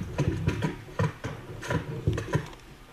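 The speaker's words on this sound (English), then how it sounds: "It's the sound of cheeseburgers hitting a dock in the movie Cloudy with a Chance of Meatballs." A movie sound effect of cheeseburgers hitting a dock, heard as a series of soft, wet slapping thuds in an uneven rhythm, moderately loud and alone without talk.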